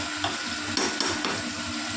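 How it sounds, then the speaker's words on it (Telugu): Food sizzles steadily in a pan while a utensil scrapes and stirs in a few quick strokes, close and fairly loud. "కొద్దిగా ఇంకా వాటర్ ఉంది కాబట్టి ఇదంతా కలబెట్టేస్తాం"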